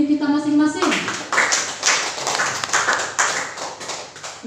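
An audience at a school teachers' session breaks into applause after a speaker's voice, a dense, steady clatter of many hands clapping that carries on to the end.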